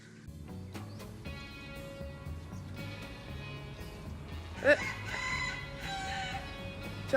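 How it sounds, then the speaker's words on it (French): A rooster crows in Chiang Mai, northern Thailand, its drawn-out call rising a little way off over a soft background murmur, with a sharper clucking burst near the end. "Tu vas pas me manquer, coq."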